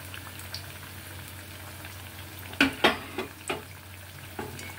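Battered potato chops (alur chop) fry in hot oil with a soft, low bubbling hiss. A few sharp spattering pops come near the middle, heard close but at low volume, with no talking.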